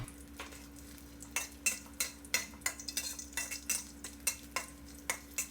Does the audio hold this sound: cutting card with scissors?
no